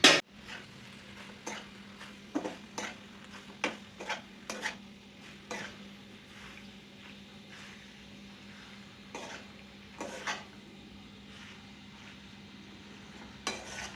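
Pasta is tipped into a cooking pan and stirred, with intermittent close clicks and scrapes of the utensil against the pan over a low steady hum; no one talks.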